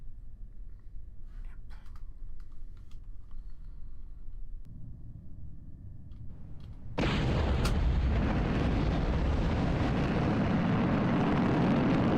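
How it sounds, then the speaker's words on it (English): Rocket launch in Kerbal Space Program with RSS Realism Overhaul: a low rumble builds, then at about seven seconds a loud, broadband engine roar bursts in and holds steady and close to the end. "Fill tanks and launch."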